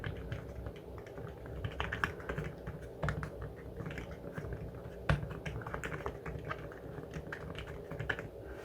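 Steady tapping of keys on an Apple Smart Keyboard Folio for iPad, a quick uneven clatter of soft clicks with a few louder strikes, close by with no talking.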